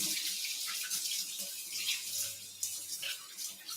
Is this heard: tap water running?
yes